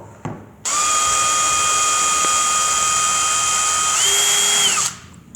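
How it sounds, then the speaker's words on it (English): A power drill boring a very small hole while repairing an IKEA box shelf whines steadily for several seconds, close by, its pitch rising briefly near the end before it stops. "we're going to take a very small drill bit and drill that in there"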